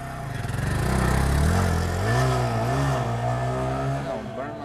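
A KTM motorcycle revs hard up close, its engine note climbing and wavering through several throttle pulls before easing off, loud and steady with no talking over it.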